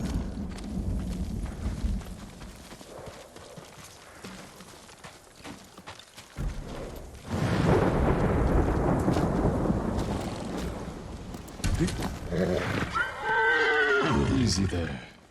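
Horses whinny and neigh in the Ghost of Tsushima video game, a rising whinny near the end over music and rumbling thunder, with a voice speaking earlier.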